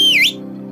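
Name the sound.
loud whistle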